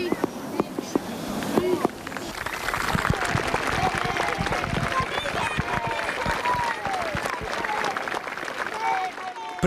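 A large crowd at the Casale sul Sile rugby club applauds at length in memory of a young player, dense sustained clapping with scattered shouts, loud and close, while a voice speaks faintly over it.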